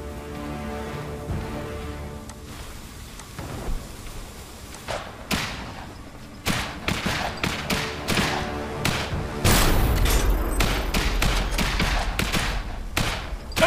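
Gunfire in the real-time strategy game Iron Harvest: repeated sharp cracks and thuds that grow denser and louder into a heavy, sustained barrage near the end, under a rumbling battle ambience.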